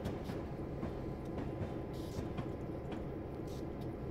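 A heavy Norfolk Southern freight train in Train Sim World rolls by as a steady, loud, dense rumble, with faint clicks of wheels over rail joints throughout.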